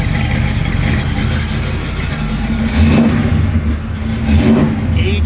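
A 1967 Chevrolet Malibu with a cam swap drives down the road, its engine a loud, steady rumbling drone with two brief swells of revving and some faint background noise.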